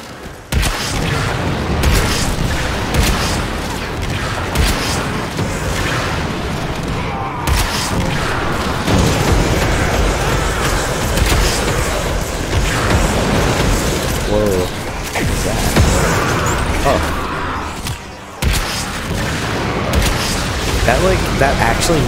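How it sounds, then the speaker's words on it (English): Booming explosions and rapid gunfire-like bursts from the Warframe video game sound loud and dense throughout, with a person talking over the action. "The explosion from whatever thing they're using."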